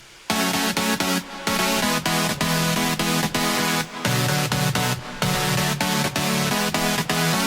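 Five layered saw synth chords from an FL Studio break, loud and sustained, played in a choppy rhythm with short gaps between stabs, no voice.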